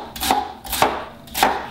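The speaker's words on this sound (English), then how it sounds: "I prefer to chop them, so I'm going to chop them for my salad." A knife chops endives on a cutting board for a salad: three crisp, evenly spaced chops, close and clear, with no talking.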